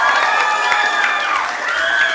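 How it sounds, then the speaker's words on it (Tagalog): Children in a school cheering and clapping together, a loud excited mix of high shouts and whoops over scattered claps, close and continuous for a brief moment. "Palakpak muna."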